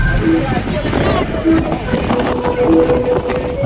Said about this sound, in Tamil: அந்த காற்று அப்படியே ஒரு காற்று அடிக்குது பயங்கரமாக